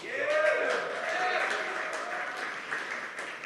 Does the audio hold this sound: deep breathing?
no